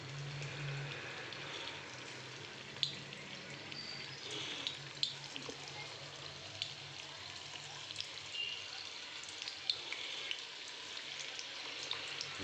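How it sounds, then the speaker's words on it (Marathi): Soya chunks deep-frying in hot oil make a steady, faint bubbling sizzle with small pops and crackles scattered throughout, close by and with no voices. "आता मी एक एक सोया ह्याच्यात डीप फ्राय करून घेतो."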